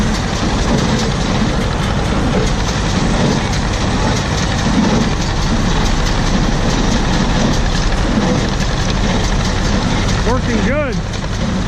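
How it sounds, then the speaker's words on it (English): A John Deere 50 tractor with optional power steering pulls hay equipment in the field, its engine chugging steadily at close range under heavy wind-like noise, with brief voices and a short rising squeal near the end. "It's being pulled by a John Deere 50 with the optional power steering."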